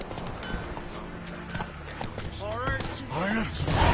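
Horse hooves clip-clopping in the video game The Witcher 3, a steady trotting rhythm under a noisy in-game soundscape with voices and a brief whinny-like sweep near the end.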